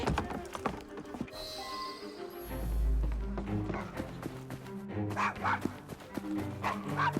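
A dog in the video game Assassin's Creed Syndicate barks a few times amid street ambience with horse hooves clip-clopping, mixed with game music and low rumbles.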